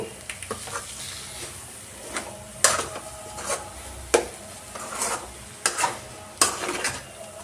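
A spoon stirs potato and green chilli fry with fresh coriander in a pan, making rhythmic scraping strokes over a light sizzle, with occasional clinks against the metal.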